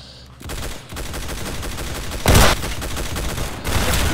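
Gunfire in the Roblox game Arsenal rattles in rapid, dense bursts, with one louder blast standing out midway and the shooting continuing steadily to the end.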